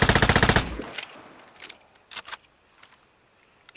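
A gun in the Vigor video game fires in taps: a rapid loud burst of shots at the start, then a few separate short shots spaced apart, all close and without talk.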